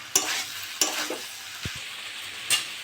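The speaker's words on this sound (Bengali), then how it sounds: "নেড়ে চেড়ে ভালো করে ভেজে নিয়েছি" Potato, carrot, onion stalk and bean fry being stirred in a pan: a few spaced, distinct spatula scrapes and knocks over a soft, low sizzle, close by and otherwise quiet.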